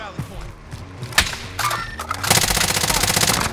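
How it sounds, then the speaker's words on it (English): Bursts of automatic gunfire in the Warzone Rebirth Resurgence battle royale video game, scattered single shots and thuds giving way to a loud, rapid sustained volley near the end, with no speech over it. "They're shooting at me from prison."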